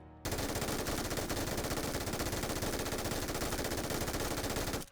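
An MG3 machine gun in PUBG fires one long unbroken burst of very rapid, loud shots that stops abruptly at the end, with no voices.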